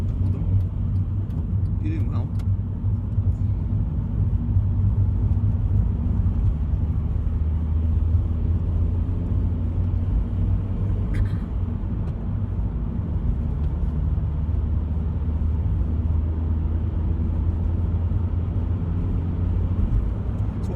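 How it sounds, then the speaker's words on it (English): Interior rumble of a Skoda car driving during a hill-start driving lesson, a steady low engine and road drone throughout, with faint voices talking over it. "What kind of car is it you drive? It's a Skoda."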